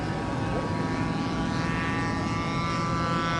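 An RC model airplane engine under throttle at the Joe Nall RC aircraft meet in 2017 drones loudly and steadily for the whole stretch, a continuous buzzing whine with no breaks.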